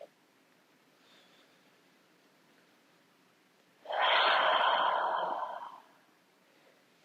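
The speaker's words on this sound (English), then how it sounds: "Let's take 2 more breaths on our own" A single long, deep breath during a yoga breathing exercise, heard as a close, airy rush of about two seconds against quiet surroundings.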